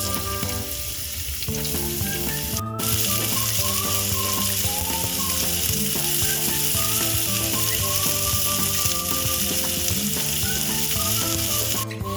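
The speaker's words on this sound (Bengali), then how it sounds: "এখন আমি দিয়ে দিচ্ছি তেল। এবার দিয়ে দিব পেঁয়াজ কুচি" Steady, loud sizzling of chopped onions frying in hot oil, with a continuous crackle and occasional stirring, no voices.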